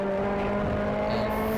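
A car at speed on the AutoBahn Country Club South race track, its engine holding a steady loud drone with a slight rise as the throttle rolls back on, alone with no voices.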